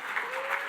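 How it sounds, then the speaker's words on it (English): Applause from an audience at a Lyme disease charity gala dinner, steady dense clapping filling the short moment, fairly close and even, with faint crowd murmur beneath. "that deserves applause for everyone who's suffered through this horrible experience"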